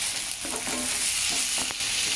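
Masala with onion, coconut and garlic sizzles in a pan as ginger-coriander paste is added and stirred in, a steady close hiss with a few scraping stir strokes through it.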